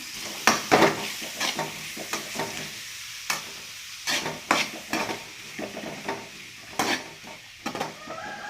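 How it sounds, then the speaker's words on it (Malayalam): Chopped onion and garlic sizzle in hot coconut oil while a utensil stirs them, with frequent sharp clinks and scrapes against the pan over a soft frying hiss. "വെളിച്ചെണ്ണ ചൂടായി വന്നതിന് ശേഷം ഇനി ഇതിലേക്ക് സവാള അരിഞ്ഞതിട്ട് കൊടുക്കാം."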